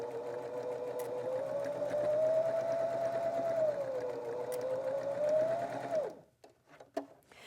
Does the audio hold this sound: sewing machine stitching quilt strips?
yes